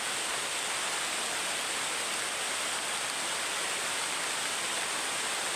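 Pouring rain roars in a constant, close, heavy wash, unvarying throughout the short stretch.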